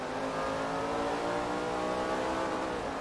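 A V8 Supercar, a Holden touring car, revs hard in the Forza Motorsport 3 racing game. The engine note is loud, sustained and close, with a continuous roar and no talk over it.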